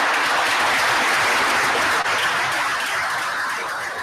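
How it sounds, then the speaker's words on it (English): Sustained applause for fire department members at a township committee reorganization meeting, a dense steady clapping from a full room lasting throughout without a break. "Let's give them a round of applause."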